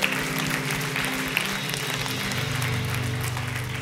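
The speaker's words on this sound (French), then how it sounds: "est-ce qu'on peut applaudir le roi des rois?" A church congregation claps steadily together, a dense and even wash of applause that fills the space and stays at one level from start to finish.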